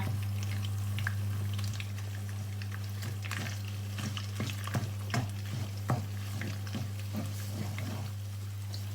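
A spoon stirring Thai red chicken curry in a pot, with repeated scraping clinks in an uneven rhythm over a soft sizzle and a steady low hum.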